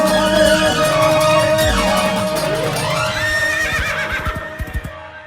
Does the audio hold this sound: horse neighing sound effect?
yes